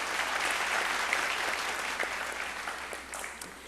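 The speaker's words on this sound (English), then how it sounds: "A round of applause, please, for the band." An audience at a televised vocal competition show applauds the band, a broad continuous wash of clapping that starts full and gradually thins toward the end.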